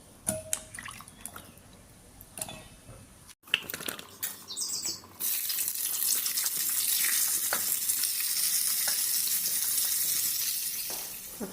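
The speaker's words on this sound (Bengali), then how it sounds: "চালে কুমড়া ভাজি করি" Ash gourd frying in a pan, with a few soft kitchen clicks and knocks before a loud, steady sizzle takes over and continues without pause.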